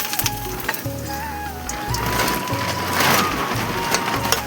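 Five-spice seeds and dried red chillies hit hot oil, making a loud, continuous crackling sizzle with bursts of popping, close up over a low hum.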